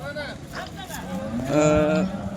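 Cows moo nearby at a cattle market, one long drawn-out low followed by more lowing, over a murmur of voices and crowd noise.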